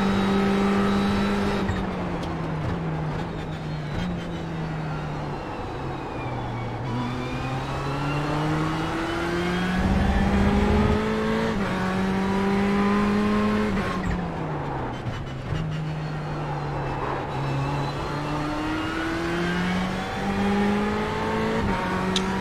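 Race car engines in iRacing at Daytona, including a Ferrari, drone loudly and continuously, pitch rising through gear changes and dipping on shifts, with occasional cars passing nearby over a steady roar.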